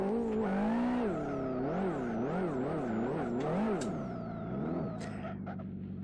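A DK Chevrolet mod car with the XRR engine in the racing game Live for Speed, revving loud and continuously, its pitch sweeping up and down in quick repeated waves before dropping to a steadier tone near the end, with no talk.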